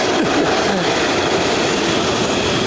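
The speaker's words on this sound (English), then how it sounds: "This whole train passing." A train rolls past close by, a loud, steady rumble and rattle of wheels and cars filling the whole moment without a break, with no voices over it.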